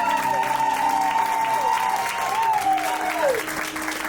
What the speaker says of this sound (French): Est-ce qu'on peut acclamer pour les deux?